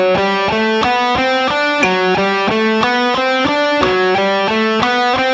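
An electric guitar plays a steady repeating triplet pattern with alternate picking, even plucked notes cycling through a phrase, while a metronome clicks at 60 BPM underneath, alone and clear.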